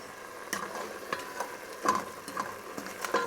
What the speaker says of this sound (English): Onions have been cooking down a few minutes.